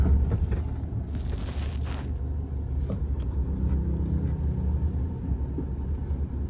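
Motorcycles and cars pass on a road, making a steady, loud engine rumble and tire noise that continues without a break, with no voices.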